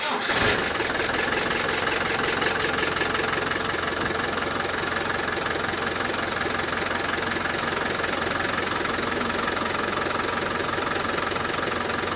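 A Land Rover Defender 200TDi diesel engine cranks and catches with a brief burst at the start, then settles into a steady, loud, close idle with a rough knocking rhythm that continues unchanged to the end.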